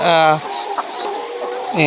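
Chickens cluck close by in a busy, overlapping chatter, with a louder squawk at the start and another at the end.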